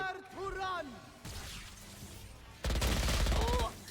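Gunfire in a Valorant match on a competitive team map, with bursts of shots fired through walls, loud and close, and a sharp burst near the end under fast voices and game sounds.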